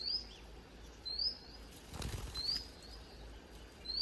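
A young fledgling bird flaps its wings as it flies back up into a nest, giving a soft fluttering burst near the middle. Faint high chirps repeat around it in a quiet outdoor setting.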